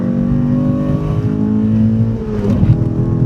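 Mazda MX-5 race car engine accelerating on the Phillip Island circuit, heard from inside the car as a loud, steady climbing engine note with a brief drop and rise near the end, likely a gear change.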